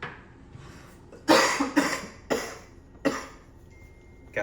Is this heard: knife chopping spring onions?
no